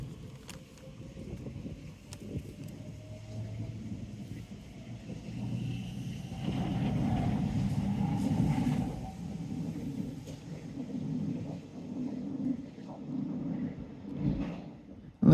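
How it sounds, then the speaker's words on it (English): A train passes at some distance, a low rumbling roar that swells toward the middle and then fades, mixed with light wind noise and no voices. "Check out this train."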